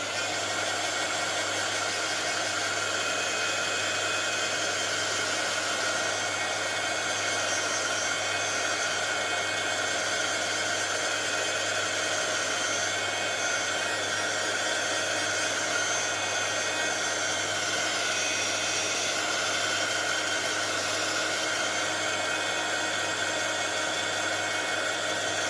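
A dryer blows a continuous, loud, even whoosh while drying paste on scrapbooking paper, holding steady without a break for the whole stretch.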